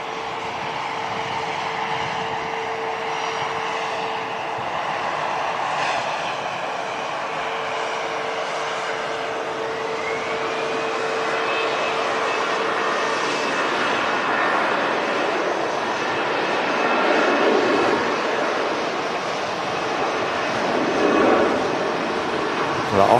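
Aircraft taking off at Manchester Airport, a steady distant jet roar that builds slightly over time, with a faint rising whine partway through and someone talking quietly over it.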